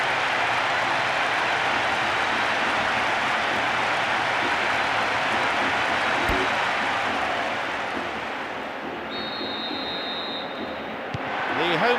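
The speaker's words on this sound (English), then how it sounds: "The crowd starting to get impatient now." Steady stadium crowd noise from the football video game PES 2012 on PlayStation 2, a broad constant roar that dips slightly near the end and then swells again, with a commentator talking over it.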